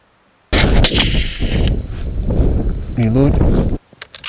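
A rifle shot cracks sharply on a red stag hunt in the Scottish hills, loud and close, with wind buffeting and people talking before and after it.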